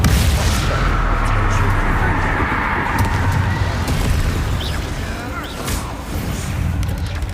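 Blasting-spell explosions in Hogwarts Legacy, heavy booms and bursts layered over continuous loud combat rumble, with crackling impacts scattered throughout.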